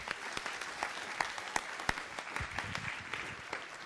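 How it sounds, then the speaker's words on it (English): Applause for students at a city council meeting, a sustained patter of many hands clapping with sharp individual claps standing out, moderately close, with no talk over it. "So you want to give them another round of applause"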